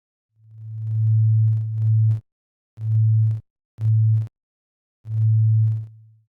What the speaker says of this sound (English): the sine wave is disturbed by these clicks